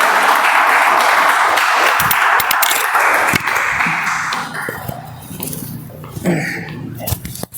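Audience applause welcoming Toastmaster Abhishek to the stage at a Toastmasters club meeting: a dense, loud wash of clapping that gradually thins out and fades toward the end.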